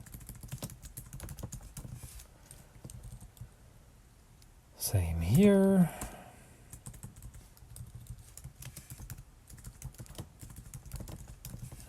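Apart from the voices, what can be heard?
typing on computer keyboard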